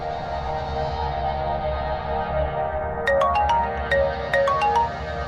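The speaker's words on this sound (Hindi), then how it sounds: "ऊपर से अब फोन भी नहीं उठा रहे हैं।" A phone rings unanswered in a quiet room, its electronic ringtone repeating steadily as a clear close melodic pattern with no one speaking.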